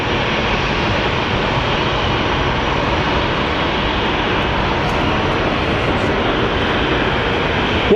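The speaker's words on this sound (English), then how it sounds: "we do have our plane departing for Seattle." Airliner departing Phoenix Sky Harbor Airport for Seattle, a steady, loud broadband jet engine roar that holds constant for the full eight seconds, with no talking.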